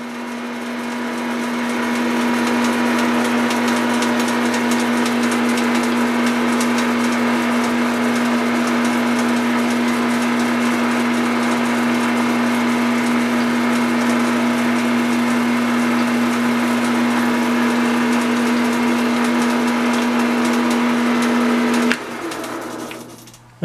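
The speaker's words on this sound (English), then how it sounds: "There, we're turning at about 370 RPM. The tailstock is locked in position." A metal lathe spinning a tube at about 370 RPM with a tubing expander gives a steady, loud, unbroken mechanical hum and whir with a strong tonal drone, running for over twenty seconds before winding down abruptly at the end.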